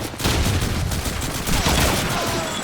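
Rapid automatic gunfire in a Counter-Strike match rattles in a dense continuous burst, loud and close, with faint whistling ricochet tones partway through.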